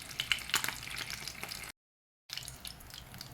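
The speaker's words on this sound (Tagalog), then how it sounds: "Fry ko muna itong sweet ham." Sweet ham fries in a pan with a soft, crackling sizzle and light popping that runs steadily, cuts out briefly, then comes back.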